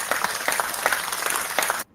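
A round of applause and clapping from an audience at a live news show, steady and fairly loud throughout before cutting off abruptly at the end.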